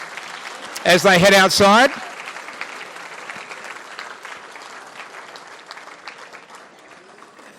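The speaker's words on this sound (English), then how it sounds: "Give them a big round of applause, ladies and gentlemen" An audience at a gala awards night breaks into sustained applause. A voice speaks briefly over the clapping near the start, and the clapping then carries on alone, gradually thinning and fading.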